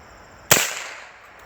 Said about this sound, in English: shooting this one-handed